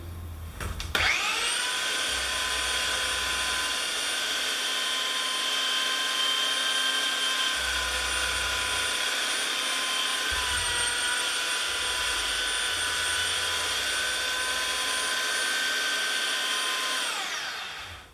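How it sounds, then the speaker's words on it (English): Rubi Rubimix-9 N mortar mixer churning thinset in a bucket at its highest speed, a steady, loud motor whine that starts abruptly, holds for about seventeen seconds and then winds down, close and without speech. "the paddle on this mixer is designed so that as you're mixing the thinset, it'll pull the ingredients down into the bottom of the bucket"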